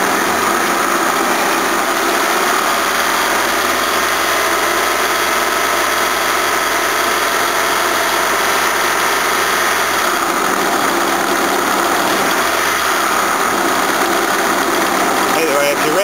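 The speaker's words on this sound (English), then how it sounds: "I'll bring the revs up." An engine idling steadily with a constant mechanical hum and hiss, a slight dip in pitch near the end as the revs shift; a voice murmurs faintly underneath.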